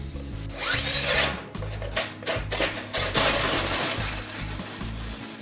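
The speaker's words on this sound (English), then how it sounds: "I change to my 2-inch Forstner bit and set the drill to maximum torque." A power drill set to maximum torque whirs loudly as a 2-inch Forstner bit bores into a wooden block, the motor surging and bogging in several short bursts before winding down.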